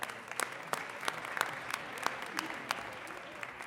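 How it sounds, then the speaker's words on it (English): Audience applause at a city council meeting, a steady wash of many hands clapping with sharp individual claps standing out, moderately loud and continuing throughout without speech. "Give them a round of applause."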